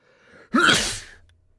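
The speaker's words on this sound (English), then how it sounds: "I've been sneezing tonight." A single close sneeze, a short breath intake followed by a sharp burst of air, then quiet.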